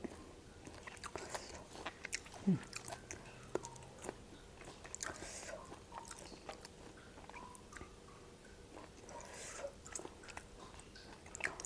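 Crisp, crunchy chewing of fried buffalo skin with herbs close to the mic, with irregular bites and crackles over a faint steady background hum.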